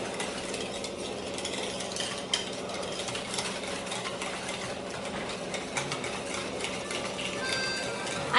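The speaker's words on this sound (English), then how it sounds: "we're gonna mix until it resembles a pudding consistency" Chocolate and vanilla pudding mixture is stirred in a bowl, making a continuous, busy scraping and swishing with occasional light knocks against the sides.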